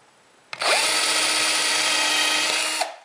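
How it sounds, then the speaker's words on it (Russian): A thin drill bit bores a pilot hole through a wooden board for a solid wood table, one steady whining run of about two seconds that starts and stops abruptly, close and loud, with no talk. "Для этого берем тонкое сверло"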